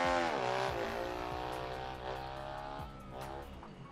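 A Honda Africa Twin motorcycle in the racing video game RIDE 3 gets over-throttled, its engine revving high and then falling, with rising and dropping pitch and a tire skid, steady and fairly loud.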